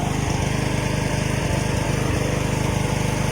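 A John Deere LA115 riding lawn mower engine runs steadily up close, a loud, even low rumble with a fast regular pulse throughout, no talking.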